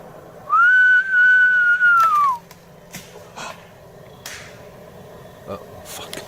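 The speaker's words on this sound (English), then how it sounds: "Whistling was a bad idea." A person whistles a long, sustained note that slides down at the end, followed by scattered rustling and small outdoor noises.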